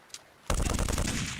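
After a near-silent moment, a loud, sustained burst of rapid automatic gunfire from guns loaded with blanks erupts in a Hindi action film shootout, firing continuously to the end.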